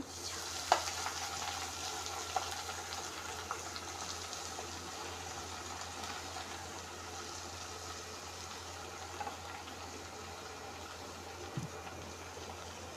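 Fenugreek leaves for methi bhaji sizzle and fry in a pan over a low gas flame while being stirred, a steady soft hiss with a few faint scraping clicks, quiet and continuous without talking.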